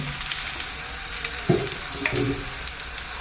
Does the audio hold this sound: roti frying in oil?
yes